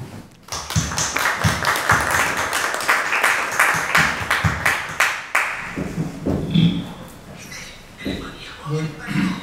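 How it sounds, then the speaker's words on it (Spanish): An audience at an academic book presentation claps for an incoming speaker, a burst of close applause in the first seconds that thins into scattered claps, with a voice talking over the tail. "Por favor, aplausos para él."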